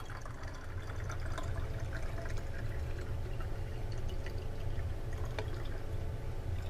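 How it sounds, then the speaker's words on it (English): Water poured steadily into a container held near a capacitive proximity sensor, a continuous low splashing and trickling fill that stays even and unbroken throughout. "I'm going to keep pouring water in it."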